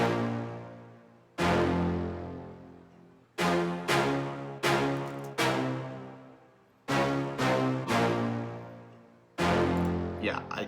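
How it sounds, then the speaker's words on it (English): Heavy cinematic hit samples from a drum kit, played as a pattern of booming orchestral-style impacts with long decaying tails. The hits are loud and alone, some spaced apart and some in quick pairs. "And this is the pattern I came up with for the hits."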